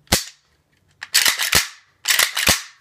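A polished AK-47 bolt carrier is worked by hand, with sharp metallic clacks and slides in quick clusters, loud and close with no talking.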